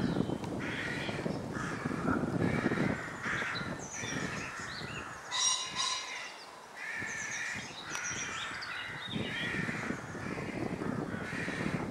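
Crows caw repeatedly from nests up in the trees of a woodland, harsh calls overlapping at moderate distance against a quiet outdoor background.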